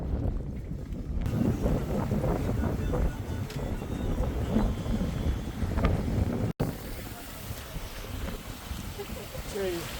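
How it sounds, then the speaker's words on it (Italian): A 45-foot sailboat under sail in a taut wind on a fairly calm sea, with steady broadband wind and water rush buffeting the microphone throughout and a brief dropout partway, a voice speaking over it. "il vento oggi è perfetto per navigare a vela"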